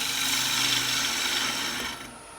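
A woodturning gouge cuts wood spinning on a lathe, a steady, close, hissing scrape that holds evenly and then eases off near the end, with no voices.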